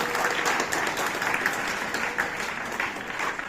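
Applause from a school audience at a residential secondary school's self-governance day, a steady wash of many hands clapping at moderate volume, continuous and without speech.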